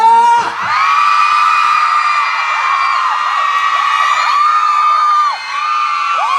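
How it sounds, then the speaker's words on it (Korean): A large concert crowd at an outdoor festival in Pyeongtaek screams and cheers loudly and without a break, with high shrieks and whoops rising over a dense roar of voices that dips briefly twice. "우리 샤우팅 한번 제대로 한번 해볼까요? 소리 질러!"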